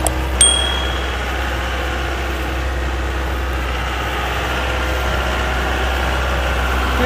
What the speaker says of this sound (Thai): คลิปนี้อยู่กับรถไถยันมาอีโคท่าตู้แอร์ครับตอนนี้กำลังไถนาครับไถกลบตอฟางครับ